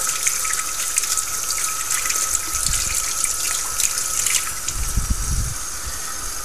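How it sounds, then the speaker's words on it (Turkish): Leek leaves are rinsed under running tap water, a steady close gush of the faucet with brief splashing swells as the leaves move through the stream. "şu yaprakların daha kolay açılabilmesi için akarsuda şöyle şu yaprakların araları tamamen yıkanmalı"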